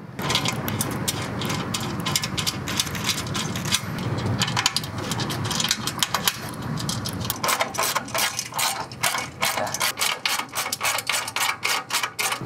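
Ratchet clicking rapidly as it tightens a quarter-20 bolt with washers to mount a catch can on a Gen V LT1 engine, a dense run of close clicks turning into distinct rhythmic bursts of ratcheting.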